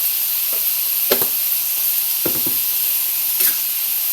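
Ginataang kamansi at sitaw (breadfruit and string beans in coconut milk) being stirred in a pan: a soft, steady sizzle with a few distinct scraping strokes of the spoon spaced through the clip, no voices.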